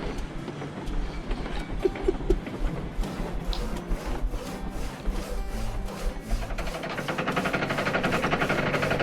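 A train engine in Railroads Online rumbles low and steady, with rhythmic clickety-clack and chuffing that grows louder and denser toward the end, and no talk.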